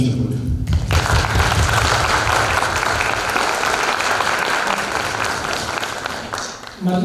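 Audience applause at a debut event, a dense, loud, sustained wash of clapping that holds steady throughout and fades slightly at the close.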